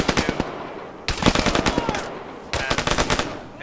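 An M2 heavy machine gun firing in a military video game, loud close bursts of rapid automatic shots in three separate strings with short gaps between.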